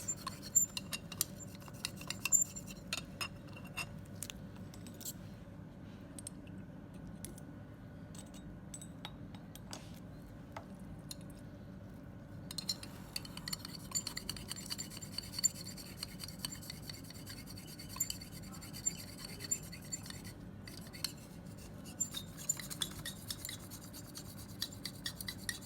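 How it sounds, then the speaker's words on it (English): A glass rod stirs a product mixture with aqueous sulfuric acid inside laboratory glassware, making faint scraping and frequent small clinks in an irregular rhythm for a long stretch, close up and with no talking. "Start stirring using a glass rod"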